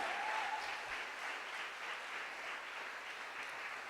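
A church congregation claps together for a short stretch, a steady, dense wash of applause at moderate distance without voices over it.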